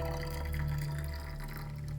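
Grapefruit green tea pours steadily into a 16 oz glass travel tumbler with a bamboo lid and infuser, a soft, continuous liquid trickle heard close up and fairly quiet.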